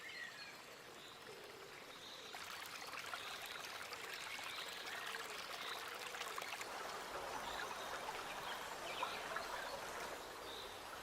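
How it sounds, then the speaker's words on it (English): Soft trickling spring water seeping from the ground near the Breg, at a source of the Danube, burbles quietly and continuously, a faint small flow with gentle splashing, alone in a calm outdoor setting. "Crystal clear water seeps from the ground at several points."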